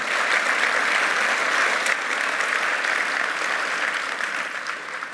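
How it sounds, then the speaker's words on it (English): A conference audience at a motivational speech breaks into sustained applause, a dense, even wash of many hands clapping that holds steady and then eases slightly toward the end, with no talking. "You can clap for that"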